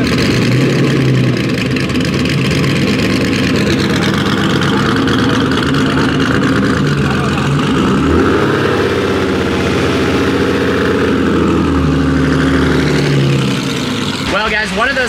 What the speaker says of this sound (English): 250 GTO startup.